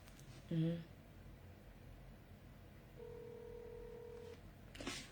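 A telephone call being placed: a short burst of dialing tones, a pause, then a steady ringback tone lasting over a second, with background voices faintly present.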